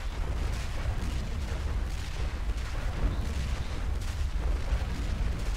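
Repeated deep booms of ship cannon fire in a video game roll over one another amid a dense, rumbling naval battle din, loud and continuous with no clear voices.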